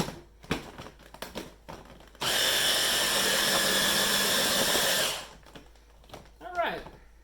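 A food processor whirs steadily for about three seconds as it blends hummus, a loud even motor drone, with people talking before and after.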